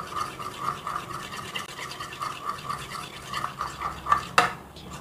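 A homemade hair mask with coconut oil is mixed by hand in a bowl, giving quick rhythmic scraping strokes up close that speed up toward the end, finishing with a sharper knock, with no talking.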